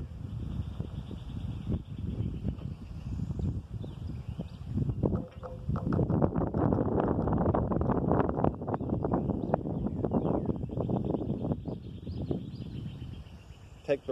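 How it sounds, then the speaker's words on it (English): Outdoor wind buffets the microphone during a hobby rocket engine build, producing rough low rumbling gusts that swell in the middle and fade toward the end, with faint bird chirps in the distance. "It's a little more windy out here than I planned on it being."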